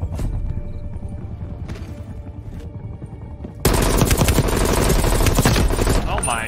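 XM4 rifle gunfire in Call of Duty Cold War multiplayer, heard as loud rapid automatic bursts that take over the second half, after quieter scattered shots and game noise.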